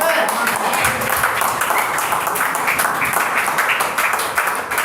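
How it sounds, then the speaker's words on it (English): A church congregation applauds mid-sermon at a Christian gathering, dense sustained clapping filling the whole stretch at steady loudness. "Why are you clapping now?"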